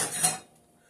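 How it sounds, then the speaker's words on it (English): A metal pot clanks and scrapes briefly on a home stovetop while it is shifted aside, a close, short clatter of cookware that fades quickly into quiet. "Let me put this pot out the way."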